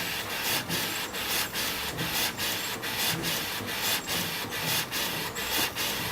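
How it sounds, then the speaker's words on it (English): A printer prints an alignment file, producing steady rhythmic mechanical passes, each with a short rubbing sweep at a regular beat, close and moderately quiet with no talking. "just going to come to the end very shortly of printing this alignment file"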